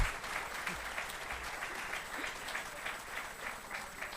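Faint applause for a patient at a virtual colloquium for chronic myeloid leukemia patients, a soft, steady patter of clapping with no voices, sounding distant and thin.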